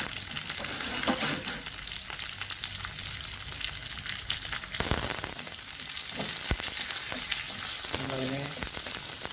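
Curry leaves with chopped ginger and garlic hit hot oil, where mustard seeds have already popped, in a pan for a spicy sardine curry. A loud, continuous sizzle with sharp crackles and spits, close by, with brief faint talk.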